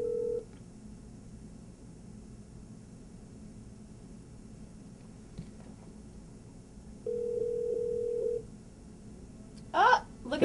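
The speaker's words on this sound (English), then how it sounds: "let me just go ahead and call mobile" Telephone dialing a mobile number on a Windows Mobile phone: a single short tone at the start, then a longer steady tone, followed by a brief burst of ringing tones near the end, over quiet background hiss.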